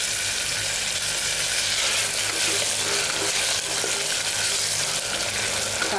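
Onions, bay leaves, chilli and ginger-garlic paste fry steadily in a pan for mutton paya, giving a constant, even sizzle with broad hiss and no breaks, loud and close throughout.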